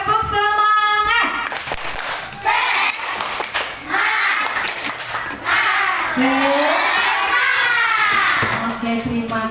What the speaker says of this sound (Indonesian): kita tepuk semangat dulu ya, biar belajarnya lebih semangat